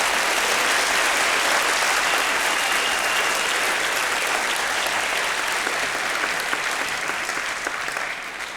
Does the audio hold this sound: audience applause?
yes